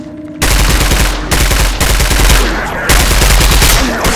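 Loud, sustained automatic gunfire in the Roblox zombie game Contact A-888, rattling in three long bursts separated by brief breaks, close and dominant throughout with no voices.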